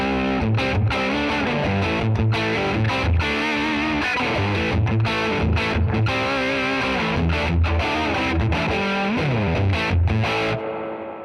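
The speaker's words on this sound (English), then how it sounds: "Let's get the deluxe reverb up to a point where it already is pretty much distorted with the humbucker" Loud, heavily distorted electric guitar with humbucker pickup through an RB1011 MKII preamp and Deluxe Reverb amp, playing chords and riffs continuously, with a wash of reverb, ringing out briefly at the end.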